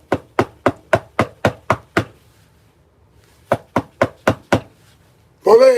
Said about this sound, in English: the cops come knocking on your door